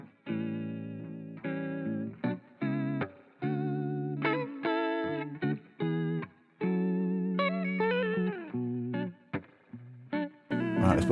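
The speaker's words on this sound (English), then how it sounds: "The vibrato in action." Electric guitar played through the vibrato effect of the Martinic Retro Pack plugin, a run of short plucked notes and held chords with a wavering, chorus-like pitch shimmer, close and alone with no talk.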